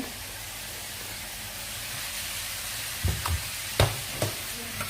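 Chopped carrots and green chilies sizzling in a frying pan, a soft steady hiss with a few brief clinks and scrapes of stirring near the end.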